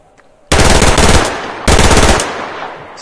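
Gunfire in the Survarium video game: two loud, sustained automatic bursts of rapid shots, each trailing off into a short echo, close and dominant with no talking.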